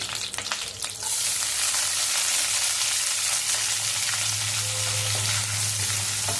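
Onions, green chillies and curry leaves drop into hot oil with mustard and cumin seeds, bursting into a loud, steady sizzle after a brief quieter start and frying continuously close by with no talk.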